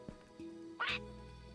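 A single short, chirpy Minecraft bird call with a quacking quality rings out sharply over a faint steady electronic hum, sounding synthetic and game-like.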